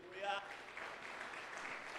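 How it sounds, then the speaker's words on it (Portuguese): Church congregation applauding during a worship service, a steady wash of clapping heard at a moderate distance, with a voice speaking over the start. "Um aplauso ao Senhor"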